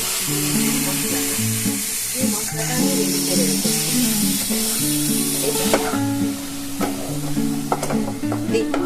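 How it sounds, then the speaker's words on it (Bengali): Spices and tomatoes fry in a wok for khichuri made with parboiled rice and two kinds of lentils, giving a steady close sizzle with stirring scrapes, under continuous background music. "আমি একটু ভেজে নিলাম"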